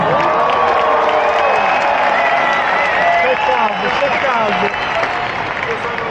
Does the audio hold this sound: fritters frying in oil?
no